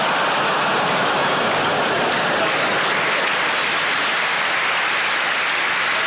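A large audience applauds loudly and continuously, a dense, even roar of clapping with no pauses.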